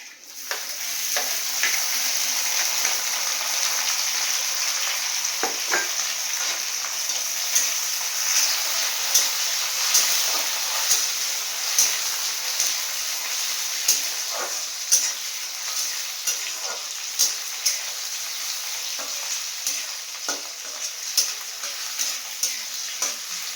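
Tomato sizzles steadily in a hot pan while cooking palak, with a bright continuous crackle broken by light, irregular clicks and scrapes of a spoon stirring, up close and without talk.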